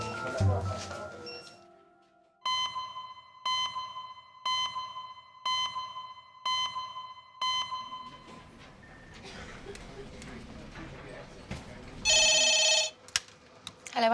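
A telephone rings in a series of repeated electronic trills, fairly loud, followed by rustling and shuffling and a short bright beep.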